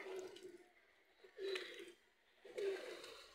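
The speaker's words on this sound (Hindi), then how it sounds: "ये कबूतर है माशाल्लाह से" Pigeons kept by a fancier coo softly in three short low bursts separated by quiet pauses, close by but faint.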